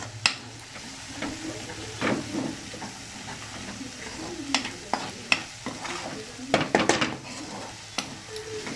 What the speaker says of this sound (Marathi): पटापट आपल्याला फ्राय करून घ्यायचं आहे मसाला.